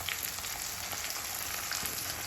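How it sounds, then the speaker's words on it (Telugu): Fresh curry leaves fry in hot oil while making poha, giving a steady, close crackling sizzle that runs unbroken throughout. "ఆయిల్లో వేసుకొని మంచిగా కొంచెం క్రిస్పీనెస్ వచ్చేదాకా వేయించుకోవాలి"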